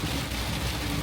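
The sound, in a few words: heavy rain shower with some hail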